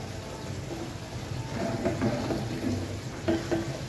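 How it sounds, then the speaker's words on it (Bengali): Oily catla fish fat fries in a pan with a soft, steady sizzle and crackle, swelling slightly with a few louder pops and spits. "তো আমরা মাছের তেলটাকে ঠিক এইভাবেই ভেজে রান্না করি, ভুনা করি"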